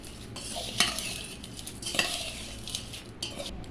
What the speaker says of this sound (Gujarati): હવે આપણે હલાવી નાખીએ.